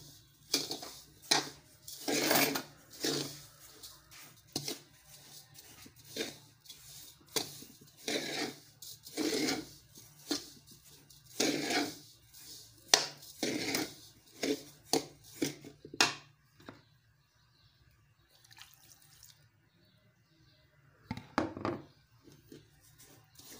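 Senegalese-style couscous is stirred in a pot, giving a run of scraping, clattering bursts from utensil against the pot. The bursts come in quick irregular clusters for about fifteen seconds, then stop except for one late scrape.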